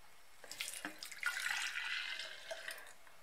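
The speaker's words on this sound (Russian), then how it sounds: "Теперь осталось перелить все в кувшин." Beet and cucumber juice poured into a 1-liter jug makes a quiet, close splashing gurgle that starts after a short silence, swells, then trails off into softer dribbles.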